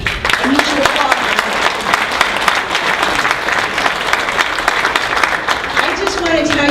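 Sustained applause from a large audience at a Republican political rally in New Hampshire, dense steady clapping filling the room throughout with some crowd noise mixed in.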